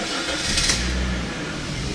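A Jaguar XJ40 engine starting and settling into a steady, close idle with a smooth, continuous mid-range hum.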